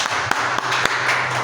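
A church congregation gives a short round of applause, brief clapping for about a second and a half with a few sharp individual claps standing out.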